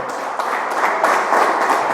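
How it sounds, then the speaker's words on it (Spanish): A church congregation applauding steadily, a dense wash of clapping throughout. "Denle un aplauso al Señor."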